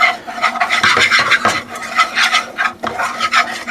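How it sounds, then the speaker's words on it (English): A spoon or utensil scraping and stirring deer meat enchilada filling with cilantro in a bowl, a continuous close rasping rub with rhythmic strokes and no talking. "Mix that all in together real good"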